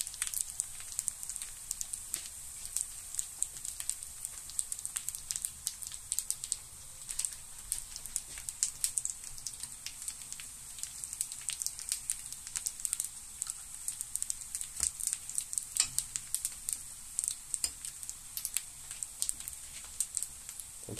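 Brick pastry heats on a raclette grill, giving a steady, faint crackling sizzle with dense tiny pops throughout, alone and with no talking.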